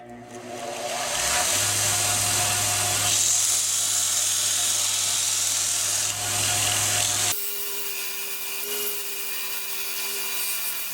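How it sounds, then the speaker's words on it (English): A belt grinder shaping a full-tang knife of 1095 steel on a porch, a loud steady whining grind with a droning motor tone that spins up, runs continuously, then shifts to a lighter pitch partway through, no speech. "begin grinding the knife"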